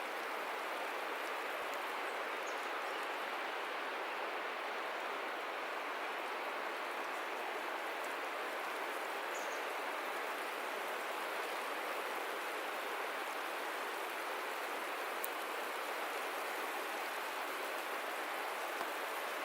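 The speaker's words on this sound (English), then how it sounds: "who doesn't love being outside painting in a hailstorm?" Steady, dense patter of a hailstorm falling outdoors beside the forested Snoqualmie River during plein air painting, a continuous close hiss with no pauses and no talking.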